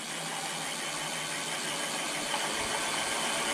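A DIY electric bike motor runs under throttle, giving a steady broadband whine and hum with a faint rattle, constant and fairly close.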